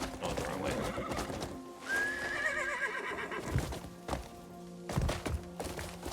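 A horse whinnies loudly in a video game, with a rising neigh followed by clip-clopping hooves and heavy thuds, layered over game music and effects.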